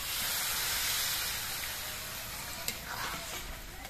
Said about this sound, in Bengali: এবার এর মধ্যে আমি অল্প করে ঝোল দিচ্ছি।